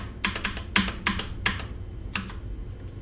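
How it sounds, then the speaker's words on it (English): Tab and arrow keys on a computer keyboard are pressed in quick bursts of sharp clicks, a few taps in a row, then pauses, close and clear. "we press a combination of Tab and the arrow keys"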